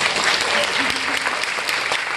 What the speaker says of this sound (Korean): 박수 한번 주셔야 돼요